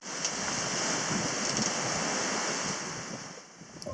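Wind rushes and waves wash around a sailing boat in good wind on a short passage among the Society Islands. The sound is a steady, broad hiss of airflow and water that eases slightly near the end.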